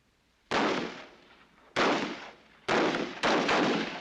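Rifle fire on a military firing range: four loud, sharp shots, each with a long decaying echo, spaced roughly a second apart with the last two close together.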